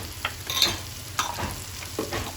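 Ginger garlic paste is stirred into vegetables and potato frying with curry leaves. Soft, quiet scrapes of the spoon come in an uneven rhythm over a faint, steady sizzle, without speech.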